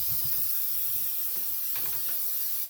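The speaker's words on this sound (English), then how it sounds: "I just spray the heck out of it." Cooking spray hisses from a can into a muffin tin in a few short, close bursts, then stops.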